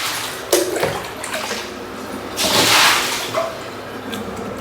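Water scooped with a mug out of a filled tub for a hot sitz bath, giving a few splashy sloshes and pours at close range, with no talk.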